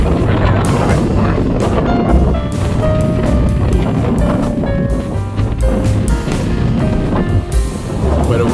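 Strong outdoor wind buffets the microphone, giving loud, constant rumbling roar with gusty swells throughout, very close and harsh, with no clear speech.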